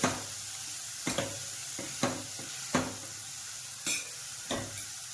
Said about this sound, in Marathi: आपण आता मटारला थोडंसं मॅश करून घेणार आहे.